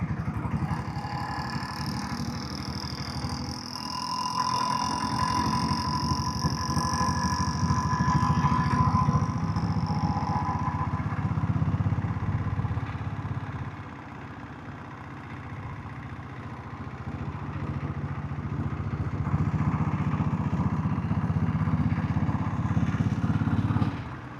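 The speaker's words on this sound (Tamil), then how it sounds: "வண்டி சவுண்டே ரொம்ப சைலண்ட் ஆகிடுச்சு" Diesel Bullet motorcycle engine on its first ride after an oil service, with a continuous, smooth, fairly quiet drone and road rumble throughout, no talking.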